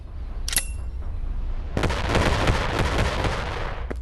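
A grenade explodes in the Animal Company video game, a sharp broadband burst near the start followed by a longer, dense blast-like crackle that sustains for a couple of seconds over a low rumble.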